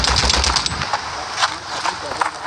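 Rapid bursts of gunfire in the video game World War Hero rattle continuously, with an excited voice talking over the shooting.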